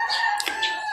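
Chickens and a rooster crow at an outdoor market stall, one loud close crow rising over a steady hum of clucks and fowl noise in a brief burst.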